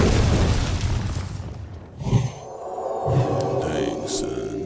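Mad Bomber card explosions in Hearthstone sound as a few muffled booms and pops under game effects, with a person talking through the clip.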